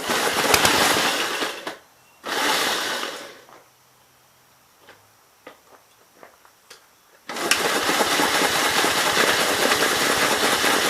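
The engine of a 1951 Gravely Model L walk-behind tractor with carburetor problems sputters into life in two short bursts and dies. After a pause with faint clicks and tinkering, it roars and keeps running loud and close.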